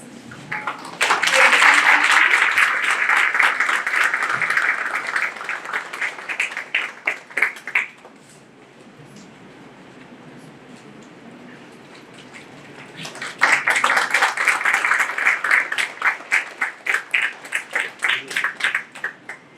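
A conference hall audience at a national business sustainability event breaks into applause, a dense round that thins into scattered claps, pauses in quiet room noise, then surges again into a second full round that tapers off.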